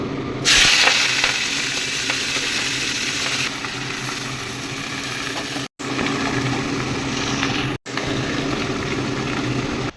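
Malabar spinach (pui shak) hitting hot oil with dried chilli and five-spice in a wok: a loud burst of sizzling at first, settling into a steady frying hiss with two brief dropouts.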